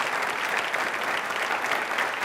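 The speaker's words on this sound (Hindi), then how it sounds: "भगत सिंह के लिए तालियां जोरों से," A crowd gives loud, dense, continuous applause at a televised Independence Day quiz show, with steady clapping throughout and no distinct voices.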